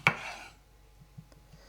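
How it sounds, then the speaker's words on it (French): A single sharp knife stroke cuts a tomato in half on a board, one crisp close chop followed by a few faint soft taps. "je vais tout simplement les couper en deux avec mon couteau"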